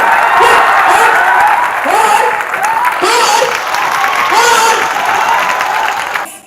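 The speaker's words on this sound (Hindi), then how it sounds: "आप जितने भी यहाँ पे अतिथिगण बैठे उनके लिए क्यों ना तालियां बजा लीजिए" An audience at a motivational speaking event claps for the seated guests, loud continuous applause with a voice rising and falling over it before it fades at the end.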